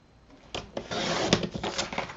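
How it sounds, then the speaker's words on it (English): A paper trimmer slices straight through a sheet of card with a close series of dry scraping and rubbing strokes, a soft start, then a denser gritty cut with small clicks. "I'm then going to put this in my trimmer."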